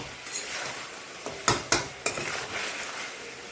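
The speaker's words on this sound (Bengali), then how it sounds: "মটনটা অনেক সময় ধরে ধীরে ধীরে কষাতে হবে" Mutton sautés slowly in a wok, a quiet frying hiss broken by a few sharp clanks and scrapes of a utensil stirring against the metal around the middle, with no voices.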